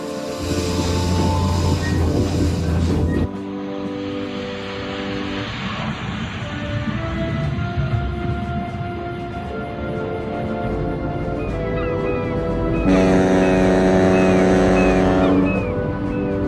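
Dramatized start of the Titanic's steam-driven main engines during sea trials: a loud, steady mechanical rumble and hum with rhythmic churning, shifting in tone partway through, with higher whistling and tonal bursts near the end.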